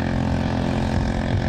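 Suzuki quad ATV engine revving hard while climbing a sand dune, a loud continuous throaty drone that stays steady and close throughout with no pauses.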